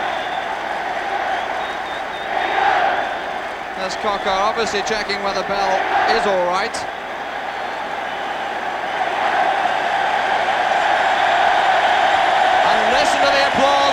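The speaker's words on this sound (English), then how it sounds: "listen to the applause for Bell and for England" A stadium crowd at an England versus Czechoslovakia football match keeps up a broad, steady roar of applause for Colin Bell and England, swelling louder toward the end, with a commentator talking over it.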